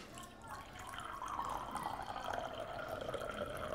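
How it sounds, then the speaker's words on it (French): Water pours into a drinking glass in a soft, thin trickle that grows a little fuller as it fills, faint and close, with a quiet voice in the background. "On mettra de l'eau dans notre verre."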